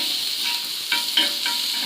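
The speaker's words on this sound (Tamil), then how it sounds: "எண்ணெய் நல்லா காஞ்சிருச்சு. ஒரு ஆனியன், ஒரு சின்ன க்ரீன் சில்லி போட்டிருக்கேன்." Onion and green chili fry in hot oil on a dosa griddle, a constant bright hiss with a few quick scraping stirs close up.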